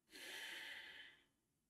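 A slow, deep diaphragmatic exhale during a relaxation breathing exercise, one long airy breath lasting about a second, close and soft, fading out at the end.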